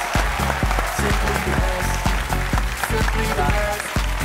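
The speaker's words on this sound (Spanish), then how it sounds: "Un fuerte aplauso para él." A studio audience applauds a guest actor on a Spanish-language show, with clapping layered over loud rhythmic music that has a steady thumping beat.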